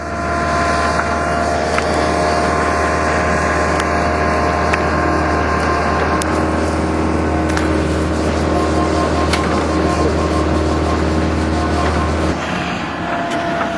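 Heavy machinery backfilling dirt over ground source heat pump lines in a field: a steady, loud diesel engine drone with low rumble and occasional faint clanks, continuous throughout.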